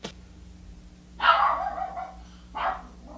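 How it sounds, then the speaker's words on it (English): A dog barks indoors in two separate bursts, the first longer and louder, the second short, close by and with no one talking. "The dog just starts barking."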